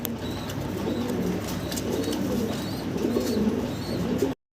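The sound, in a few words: pigeons cooing at a fancy pigeon farm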